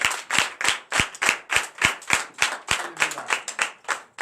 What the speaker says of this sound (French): que je vous demande d'applaudir et d'applaudir